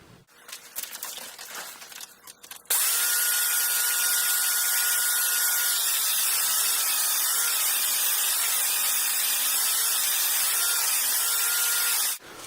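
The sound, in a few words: grinding bevels on hedge trimmer knives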